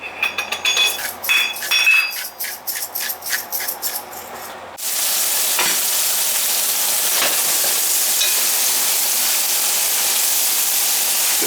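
Pre-cooked meat browns in a pan for a crockpot meal, opening with rhythmic scraping and stirring, then a sudden loud, steady sizzle that carries on close by without talk.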